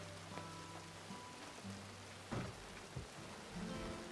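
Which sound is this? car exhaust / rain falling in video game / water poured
rain falling in video game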